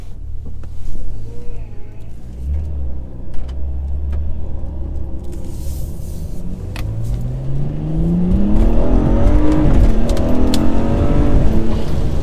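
A BMW 135i accelerates on a wet road, its exhaust note rising steadily in pitch and growing louder toward the end, a continuous engine drone with no talk over it.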